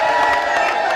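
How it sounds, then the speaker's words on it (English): Crowd noise with cheering and clapping swells steadily for a moment, a dense roar of many people without a clear break. "Let's have a round of applause for Dudley."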